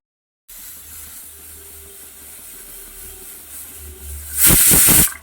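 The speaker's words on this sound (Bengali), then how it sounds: "এবার আমি প্রেশার কুকারে আবার ঢাকনাটা দিয়ে আর একটা সিটি দিয়ে নিচ্ছি" Pressure cooker cooking mutton gives a steady steam hiss, then a loud, forceful whistle bursts out in a few sharp pulses near the end. No voices.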